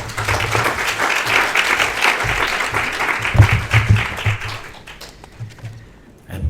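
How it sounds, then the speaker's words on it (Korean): An audience claps in welcome as a guest speaker comes forward at a Korean mission forum, dense steady applause that thins and fades toward the end before a last brief burst. "우리 강사님 나오실 때에 기쁨과 또 즐거움과 또 격려의 마음을 담아서 박수로 환영을 하겠습니다."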